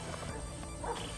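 A pet puppy at the Lake Whitney Thousand Trails campground gives a brief, close bark with a short yip, heard over a low steady background hum.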